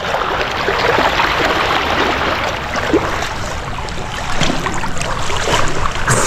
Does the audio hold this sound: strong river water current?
yes